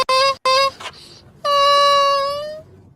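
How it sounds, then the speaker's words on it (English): A tortoise makes a series of tonal calls: two short, nasal bursts, a brief pause, then one longer drawn-out cry, heard clearly and alone. "Now, this is the sound of a tortoise."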